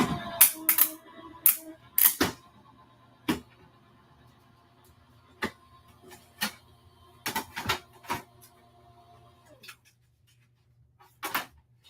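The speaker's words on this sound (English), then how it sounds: "that sound of the cracking paper" Paper crackling as it feeds through a warmed-up embossing die machine with an embossing folder, a series of sharp, close snaps and cracks in irregular clusters, some loud and some faint, over a quiet hum.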